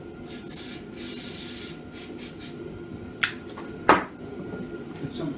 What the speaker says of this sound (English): Electric parts cleaner.